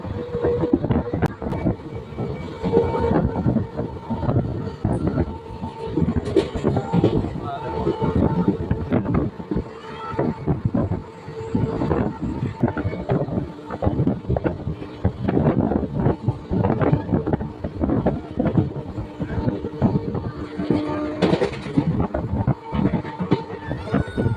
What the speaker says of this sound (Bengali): ট্রেন এখন বেরিয়ে যাচ্ছে বাগিলা স্টেশন দিয়ে ট্রেন এখন তার নিজের মহিমায় ছুটে চলেছে